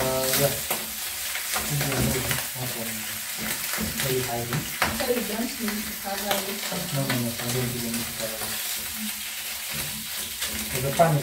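Goat ribs sizzling and frying in a wide pan while being stirred, a steady close crackle with scraping stir strokes throughout.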